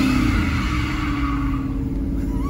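Limousine engine revving and rumbling steadily at close range, a continuous loud low drone with a mid-range whine sustained throughout, with no talk over it.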